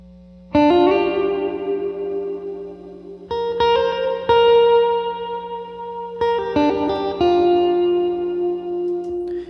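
An electric guitar plays sustained chords and single notes, heavily processed with distortion, chorus and echo, ringing out with long reverb tails.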